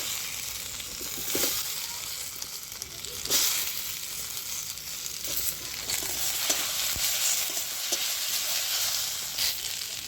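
Chopped tomato dropped into a pan of fried ginger garlic paste: a soft, continuous sizzle and hiss with occasional stirring scrapes and a burst of sizzling, close but fairly quiet, with no talk.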